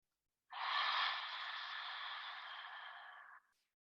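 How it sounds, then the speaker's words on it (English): A single slow, deep breath released through an open mouth with a soft voiced "ha" during prenatal yoga, a steady breathy exhale of about three seconds that fades out, close and alone. "You can open the mouth and release the breath out with a ha"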